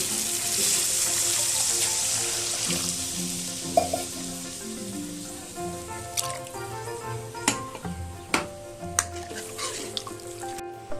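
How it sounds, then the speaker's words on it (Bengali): Water poured onto sizzling fried spice paste in a pan for a foli fish curry, a loud hiss that fades into gentle bubbling, followed by several sharp clacks of a spoon stirring. "মশলাটা কষানো হয়ে গেছে, এবার এর মধ্যে আমি দিয়ে দিচ্ছি পরিমাণ মতো জল।"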